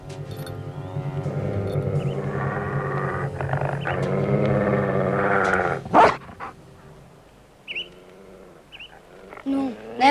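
A dog growls in a long, low, rumbling stretch close by, then falls quiet; scattered short sounds follow near the end.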